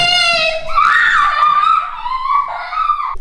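A child lets out a loud, high-pitched sustained scream that wavers in pitch, close to the microphone, for about three seconds.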